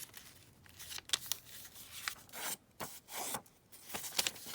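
Paper being folded down gives close, soft bursts of rubbing, crinkling and creasing, spaced irregularly across a few seconds with brief pauses, with no talking.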